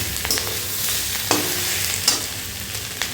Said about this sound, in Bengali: এখন আমি এই আদা রসুনের পেস্টটা দিয়ে দেবো দিয়ে দেওয়ার পরে এটা আবার কিছুক্ষণ কষিয়ে নেব